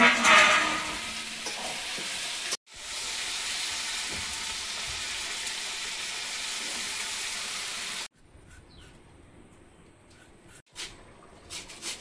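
Potatoes being stirred and cooked in a pan make a loud, continuous frying hiss with a brief break early on, then a much quieter sizzle with light clinks toward the end.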